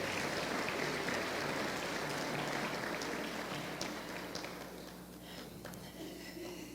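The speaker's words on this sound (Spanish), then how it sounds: "Denles un aplauso." A congregation at a Christian church service applauds in a dense, even patter that gradually thins and fades toward the end, with no one speaking over it.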